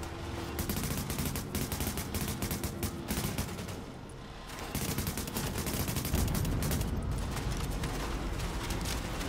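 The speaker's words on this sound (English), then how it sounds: "being shot at" Enemy gunfire in The Division rattles on in dense, continuous bursts of rapid shots. It is loud and close, with only a brief lull partway through.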